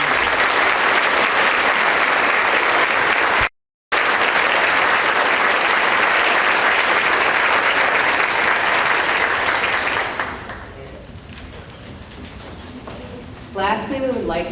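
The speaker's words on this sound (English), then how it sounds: "Please give our graduating members a round of applause." An audience at a high school senior awards night applauds graduating members with sustained, dense clapping that fades out after about ten seconds, leaving a quiet hall with faint voices.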